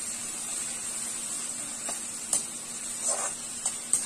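Sliced onions frying in oil on a high flame, a steady soft sizzle with faint stirring clinks and scrapes toward the end.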